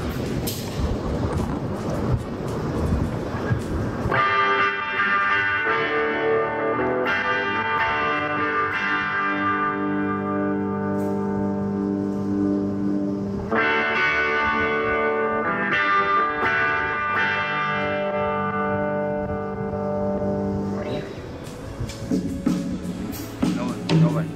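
Heavily distorted electric guitar chords through a pedalboard cab simulator ring out in sustained, thick bursts with a boxy amp-cabinet tone, played loud and continuous with short pauses between phrases.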